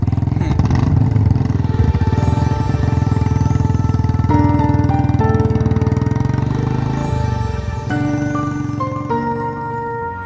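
A motorcycle engine runs loud and close for the whole stretch, a steady droning hum with shifts in pitch that suggest speed changes while riding.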